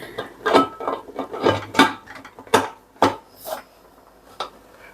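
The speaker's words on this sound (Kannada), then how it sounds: "ಈಗ ನಾವು ಈ ಕುಕ್ಕರ್ ಲಿಡ್ನ ಕ್ಲೋಸ್ ಮಾಡೋಣ" A pressure cooker lid being closed in a home kitchen, heard as a series of metallic clanks, scrapes and knocks of metal on metal, close and moderately loud, with no speech.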